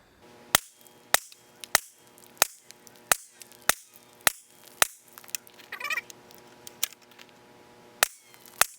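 A CMMG rifle with a ported, suppressed barrel fires eleven sharp, evenly spaced shots at a target, each crack close and loud against a faint hum, with a short rustle between shots.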